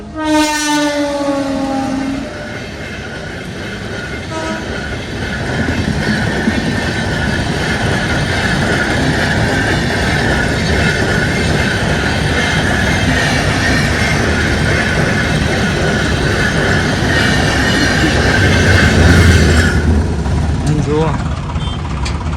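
A train horn sounds at the start, then a loud, sustained rumble and clatter of a train rolling past close by.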